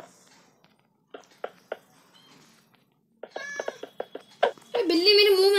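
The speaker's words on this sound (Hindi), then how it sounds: "बिल्ली मेरे मुंह में आके मियाओ मियाओ कर दी।" Cat meowing in a restaurant-building video game set in Lion City: a series of short, clipped mews, then a louder, drawn-out meow at the end, alone without talk.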